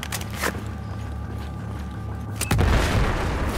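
A Battlefield 4 game explosion booms heavily after a couple of sharper blasts, then a dense rumbling roar with debris carries on loudly to the end amid battle noise.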